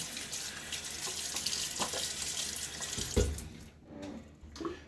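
Water running from a tap into a sink to wet the face during a wet shave: a steady, close rush of flowing water with some splashing, easing off near the end.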